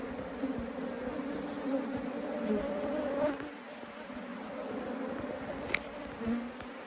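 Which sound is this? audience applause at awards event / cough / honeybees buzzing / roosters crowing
honeybees buzzing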